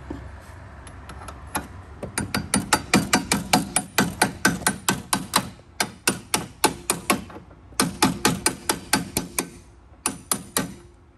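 A hammer taps a bearing into a power spreader axle in a long run of sharp metallic blows, steady and close, with a short pause partway through before the rapid strikes resume.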